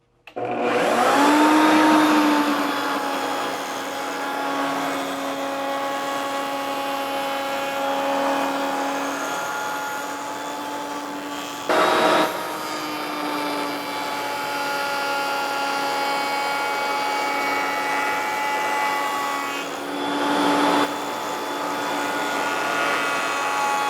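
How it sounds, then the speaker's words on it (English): Router fitted with a 1/4 inch round over bit shaping the edges of a wooden push stick, a steady loud high whine running throughout with slight pitch shifts as it cuts, close by and without talk. "So I got a 1/4 inch round over bit in here. I'm going to round over everything but the bottom."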